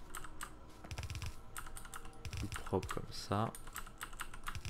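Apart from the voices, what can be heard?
computer keyboard typing while playing Factorio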